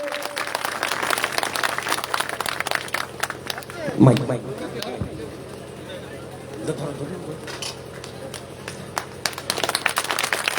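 Crowd clapping at a Republic Day flag-hoisting event in Nandigram, scattered, moderate applause in short bursts while a voice talks over a microphone throughout.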